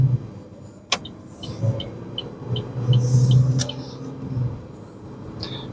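Road traffic rolls past as a low, steady rumble, with one vehicle swelling a little louder in the middle before fading, all heard from inside a car.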